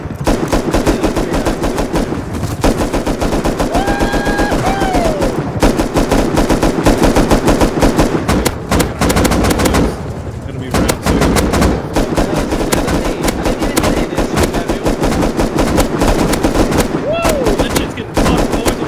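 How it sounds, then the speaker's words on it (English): Gunfire in the video game Rust during a large team battle: loud, dense, continuous rapid shots from several guns rattle on for almost twenty seconds, with one brief lull and faint voices and whistles mixed in. "Look at my little noodle gun shooting at it."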